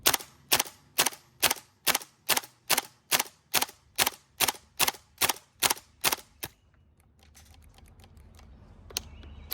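A gas blowback FAMAS airsoft rifle fires a rapid string of about fifteen loud, sharp cracks at an even rhythm, then falls silent, leaving faint background hum and a few small clicks.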